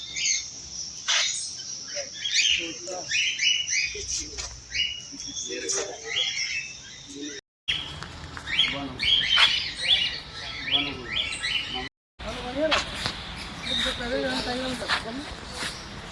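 Birds chirp and squawk in quick, repeated calls throughout, with insect-like buzzing beneath and voices talking intermittently over them.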